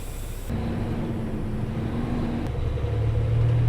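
A semi truck hauling a load of soybeans to town drives along with a steady, loud engine rumble and road drone, the low tone shifting slightly partway through.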